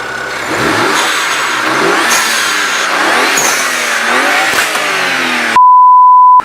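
A car fitted with a new HKS blow-off valve revs hard in repeated surges, loud and close, with sharp whooshing releases between pulls, then a steady electronic beep tone takes over at the end.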